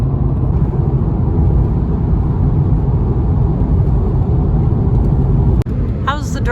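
A car driving on a rough road through flat, slightly hilly country near Kingman, a steady loud low rumble of tires and engine throughout, with a sharp knock near the end followed by a voice.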